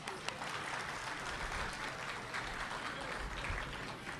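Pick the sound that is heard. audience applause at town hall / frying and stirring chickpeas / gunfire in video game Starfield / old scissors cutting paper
audience applause at town hall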